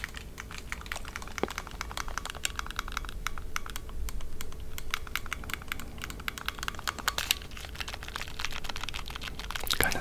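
Game controller buttons pressed in quick, uneven bursts, making dense, crisp high-pitched clicks close to the mic at a soft level, with no voices.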